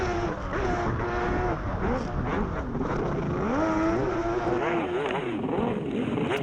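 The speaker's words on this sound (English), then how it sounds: "Maybe an engine problem for Torelli" A Jetcross racing watercraft engine with an apparent engine problem drones loudly and roughly during a 2018 P1 Jetcross World Pro Tour race at La Seyne-sur-Mer, France, its pitch wavering and sputtering unevenly instead of holding a steady whine.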